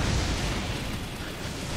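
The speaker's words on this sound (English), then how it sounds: "every single attack is like a goddamn AoE. They're all just explosions." Boss explosion attacks in the video game Elden Ring, heard as a dense, steady low rumble and broad roar that stays loud for the whole stretch, with no talking over it.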